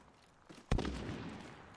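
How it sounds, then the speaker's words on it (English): Gunfire from another team in the battle-royale game Warzone: one sharp, loud shot that breaks a quiet moment, followed by a rumbling tail that lingers. "Yeah, they're shooting another team"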